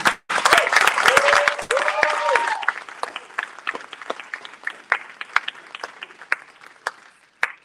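Audience applause at a Houston poetry event bursts out loudly with a few whoops and a brief tonal sound, then thins over a few seconds into scattered, sparser claps.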